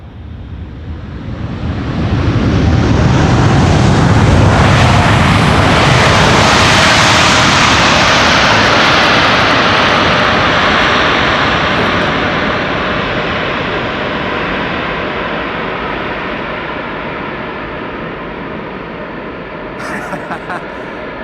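A Boeing 747-8 jet airliner at Amsterdam Schiphol Airport roars past close by, very loud. A rising, broad jet rumble holds for many seconds and then slowly fades, with wind noise on the microphone.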